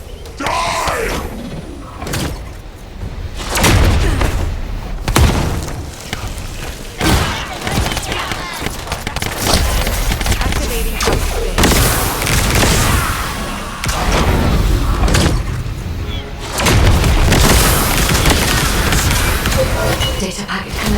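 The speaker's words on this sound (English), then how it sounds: "Time to try out Lord Corell's gift to me. This precision bomb." Precision bombs exploding in a video game, repeated loud booming blasts and thuds spread across the stretch, mixed with dense game effects and a voice talking over them.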